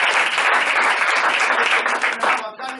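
A Tamil church congregation bursts into lively applause during a sermon, dense clapping filling the room for a few seconds before thinning out.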